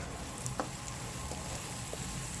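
Onions sizzle steadily in hot oil, a soft continuous hiss with a few faint pops and clicks, no voices.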